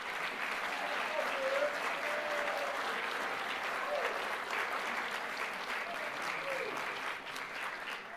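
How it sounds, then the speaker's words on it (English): An audience at a spring festival gives a sustained round of applause, dense and steady clapping that fills the room for several seconds, with scattered cheers and voices mixed in before it starts to thin out. "Let's give them a round of applause."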